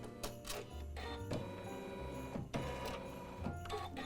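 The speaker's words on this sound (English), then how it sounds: "It's going to do the straight stitches across to hold down" An embroidery machine stitches straight lines across fabric to hold down fringe, giving a steady mechanical whir with regular clacking needle strokes. It runs close and continuous, with no talk.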